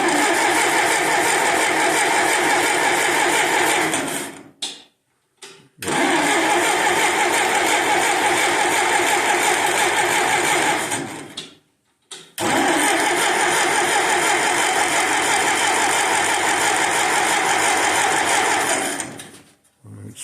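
An engine cranks in three long bursts with brief pauses between, loud and close, after internal engine repair; no clear catch into steady running is evident.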